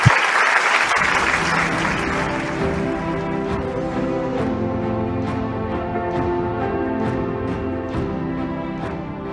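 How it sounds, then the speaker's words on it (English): A large audience gives F.W. de Klerk a warm welcoming round of applause at a keynote rally, sustained dense clapping that starts strong, settles into a steady wash and carries on for several seconds. "let us welcome His Excellency F.W. de Klerk with a warm round of applause"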